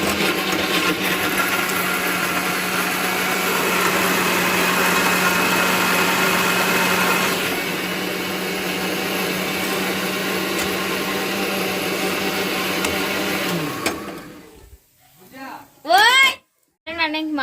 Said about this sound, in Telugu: మా వదిన టమాటాలు ఉల్లిపాయలు పచ్చిమిరకాయలు కూడా కర్రీలోకి గ్రైండ్ చేసుకుంటుంది